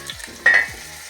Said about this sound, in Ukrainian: коли вона смажиться, коли рулька смажиться